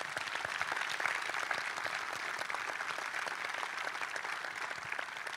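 Steady applause from the audience at a cycling team's 2023 season presentation, a dense continuous patter of many hands that holds at an even level from start to finish with no talk over it.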